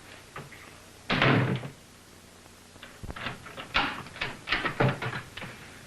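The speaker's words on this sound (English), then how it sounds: "this door locks automatically when I close it behind me" A door thuds shut, followed by a cluster of knocks and metallic clicks as it locks, close and fairly loud in an old radio drama scene, with no talking over it.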